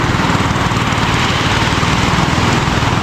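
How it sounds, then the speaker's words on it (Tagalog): A motorized outrigger boat crosses on the water. Its engine is close and loud, with a steady, buzzing drone that holds at the same level throughout, and no one speaks. "at may tumawid ngayon na bangka."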